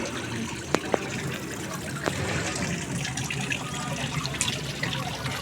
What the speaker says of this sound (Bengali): রেস্টুরেন্টের ঝর্ণা